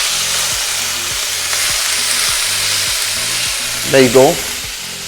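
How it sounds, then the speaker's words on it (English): Prawns coated in lime juice and turmeric sizzle and fry steadily in a pan, a continuous hiss throughout, with a brief spoken voice near the end. "it's going to sizzle a bit because it's got lime juice in this and a bit of turmeric"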